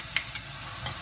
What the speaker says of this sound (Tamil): நான் என்ன பண்ணுறேன்னா கேப்சிகமையும் சேர்த்து நான் இதில் வதக்கிக்கிறேன்.